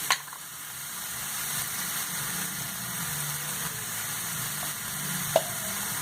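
Bottle gourd greens are stirred into well-fried onion in a hot pan, giving a steady close sizzle with faint spatula scrapes and a single sharp clink near the end, no voices.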